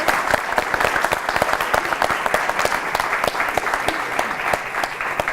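A television studio audience applauds during a Colombian political debate program, with rapid sharp claps forming a continuous, even roar throughout.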